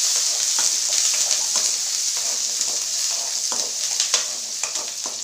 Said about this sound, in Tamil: இப்போ வந்து வெங்காயம் வதங்கிக்கிட்டு இருக்கு